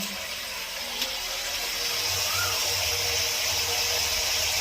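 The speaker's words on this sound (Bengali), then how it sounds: "এই যে আমি আগুন করছি, এই দেখেন ফুটছে।" A covered pot of crab steaming on a fire, a continuous hiss and low bubbling rumble, fairly loud and steady throughout, with no one speaking.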